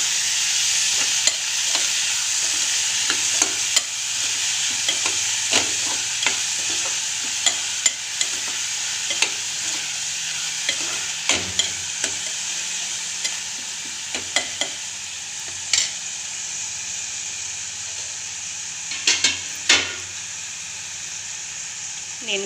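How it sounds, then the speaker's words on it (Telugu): A spoon stirs curry leaves and tomato pieces in a frying pan for Andhra-style stuffed eggplant curry, a steady sizzle running throughout with sharp scraping clicks scattered irregularly on top, close and fairly loud. "ఇందులోనే కరివేపాకు, టమాటా ముక్కలు వేసి బాగా కలపాలి ఫ్రెండ్స్"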